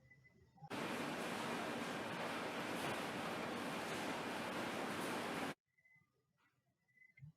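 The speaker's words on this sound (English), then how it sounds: "The noise of running water." A loud, even rush of running water starts abruptly, roars steadily for about five seconds, then cuts off sharply into near quiet with faint mechanical sounds.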